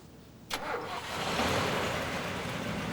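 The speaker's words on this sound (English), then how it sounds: "You drive away now, Ivy, and you don't come back." A car engine catches with a sharp burst, then settles into a steady, moderately loud running rumble that carries on for a couple of seconds as the vehicle pulls away.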